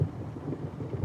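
Low thunder rumbles from a distance during a Sunday drive, a brief, soft, uneven roll that swells faintly at the end.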